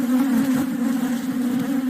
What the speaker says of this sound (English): A close call with Africanized bees, often called killer bees.